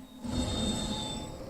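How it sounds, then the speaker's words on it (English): A train in the Train Sim World 2 video game brakes with a sustained metallic squeal over a rumbling, rolling roar. The sound is close and steady, with no speech. "Yeah, they are fairly quick brakes."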